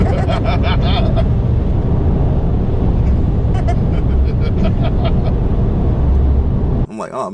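A 2023 Subaru WRX heard from inside the cabin while driving, a loud steady road and engine roar filling the space as people talk over it.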